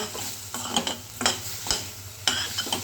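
Tomatoes sauté in a pan for sundakkai peanut kuzhambu, with a soft sizzle under about five sharp stirring scrapes, close and clear.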